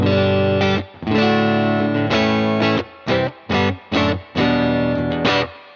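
An electric guitar is played through a UAfx Woodrow amp pedal with no reverb or effects, giving a driven tone in sustained chords and short choppy stabs with clear gaps between them.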